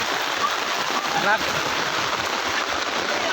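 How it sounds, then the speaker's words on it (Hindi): Heavy rain pours down in a dense, steady roar that continues without a break from start to finish. "अरे बारिश बहुत ज़्यादा हो गया भाई"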